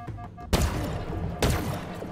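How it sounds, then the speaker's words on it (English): Plasma cannon turret shattering in Halo Infinite's campaign on Legendary difficulty, two heavy crashing thuds about a second apart over a steady bed of game noise. "Oh, I broke that plasma cannon."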